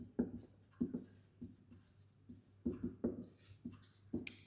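Handwriting words, likely pen or marker strokes on a surface, in a series of short scratchy bursts spread across a few seconds, fairly close and quiet with no talking.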